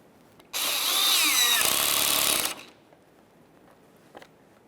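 A power tool whirring as a 10mm bolt is snugged up on a 1994–1997 Honda Accord bumper cover: one loud, steady burst of about two seconds that stops abruptly, then quiet with a faint click.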